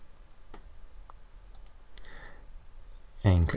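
A computer mouse button is clicked while a programmer demonstrates an HTTP redirect test, a single short, close click over a quiet room, followed by a voice beginning to speak.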